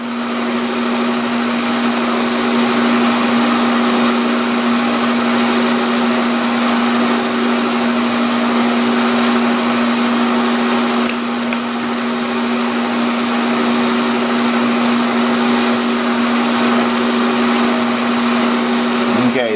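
Milling machine stroking a spline, a continuous loud mechanical hum with a steady motor drone and faint whirring texture, unchanging for the full stretch, close by.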